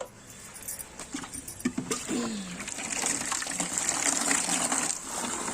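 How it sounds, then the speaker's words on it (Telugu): Rushing water from a motor pump pipe builds into a steady gush after some clattering and rattling, continuing loud and close until the end. "ఎందుకంటే మోటార్ ఆన్ చేయగానే ప్రెషర్తో వస్తుంది కదా"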